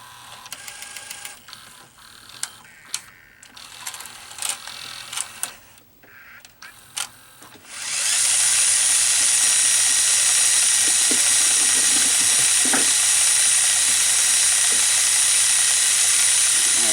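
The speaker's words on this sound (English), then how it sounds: "I will press high-speed rewind now and show you the full cycle." Sony EV-C200 Hi8 VCR cycling into high-speed rewind: scattered mechanical clicks and clunks at first, then a loud, steady whirring rush of the tape spooling that holds unbroken to the end.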